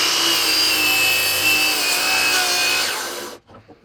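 Saw blade cutting small wood pieces against a stop block, a loud close buzzing whine of the blade through the wood that drops off abruptly near the end as the cut finishes; no talking.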